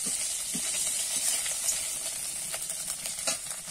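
Raw ginger and chilli paste hits hot oil in a kadai and fries with a continuous bright hiss and soft crackle, a few faint spoon taps rising from the steady sizzle.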